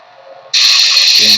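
An LGT budget lightsaber's sound font fires a lockup or flash-on-clash effect: a sudden loud, crackling hiss bursts in after a soft hum and holds steady to the end.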